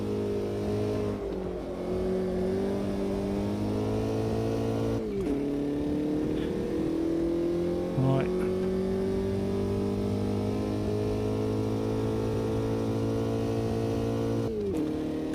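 Race car engine in a sim racing video game, a steady loud drone climbing uphill, with brief dips and rises in pitch as the car shifts and revs, no voices.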